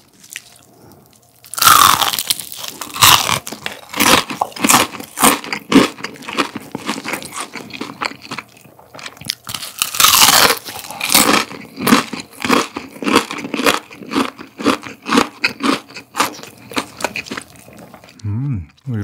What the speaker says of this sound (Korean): 그러면 바삭함이 살아있는 돼지갈비튀김 먼저.